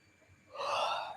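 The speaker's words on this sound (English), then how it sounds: "really sorry about the yawning" A person yawns once, a short quiet intake followed by a louder breathy exhale lasting under a second, close up with no talking.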